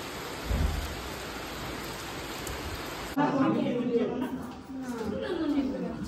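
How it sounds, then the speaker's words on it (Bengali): Heavy rain pours down in a steady hiss, with a low thump near the start and a shift midway to closer patter mixed with indistinct voices in the background. "কতদিন পরে এরকম বৃষ্টি দেখছি। সর সর সর।"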